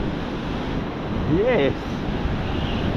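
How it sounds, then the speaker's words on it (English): Powerful ocean waves pumping in and breaking on a flat beach with no gutters, a loud continuous roar of surf and wind buffeting, with a brief spoken word partway through. "you've got the waves pumping in and they're pretty powerful"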